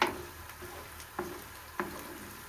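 A spoon stirs food frying in a pan for a holiday breakfast, with three sharp clicks against the pan over a faint, steady sizzle.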